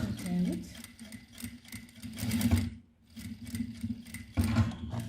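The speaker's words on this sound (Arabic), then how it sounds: "نخيط واحد شويه هنايا" A sewing machine stitches a fabric kitchen apron in short bursts of rapid whirring with brief pauses between runs, while someone talks over it.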